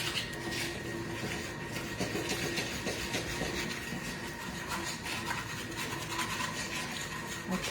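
A Thermomix blends the ingredients of a coronation chicken dressing, giving off a steady, unbroken mechanical whir with a rough, grinding texture that runs at even loudness throughout, with no talking.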